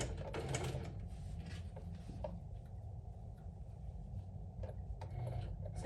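A sewing machine stitches a quilted crossbody handbag made with a scarf bandanna, running slowly and steadily at close range with soft mechanical patter throughout.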